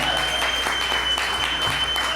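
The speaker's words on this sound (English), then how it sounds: "Give him a round of applause, please" A comedy club crowd at a Detroit venue applauds a performer's bodyguard, a brief, steady wash of close clapping with a faint voice underneath.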